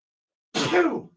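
A single short sneeze from someone off to the side during a baseball talk show, a brief burst of about half a second that rises and fades, heard alone with no talk over it.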